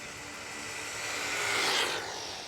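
RC rally car run at full throttle, its electric motor giving a steady high whine that swells as it passes nearest and then fades slightly, continuous and moderately loud.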